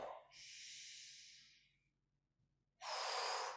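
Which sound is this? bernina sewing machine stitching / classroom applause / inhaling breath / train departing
inhaling breath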